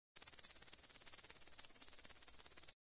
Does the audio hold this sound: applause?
no